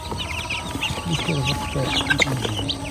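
Several chickens cluck and squawk close by, overlapping calls in a busy, noisy setting with faint voices mixed in.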